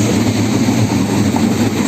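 A PESA Elf electric multiple unit passes close by on the S1 commuter line near Warszawa Zachodnia, a loud, continuous rumble and rush of rolling wheels with no voices.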